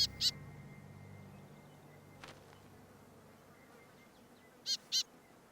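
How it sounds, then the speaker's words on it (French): Two short pairs of high, piercing cries from a small bird in the Australian wild, one at the start and one near the end, over a faint hiss with quiet stretches between. "Les petits cris de l'oiseau attirent le serpent vers le côté."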